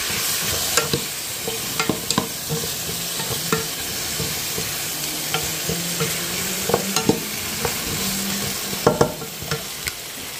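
A spoon scrapes and stirs mackerel curry in a pan with irregular close clacks over a soft steady sizzle, no talking.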